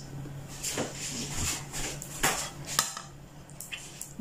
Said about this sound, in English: We are going to scrape off all the caramel from this spoon, this slotted spoon.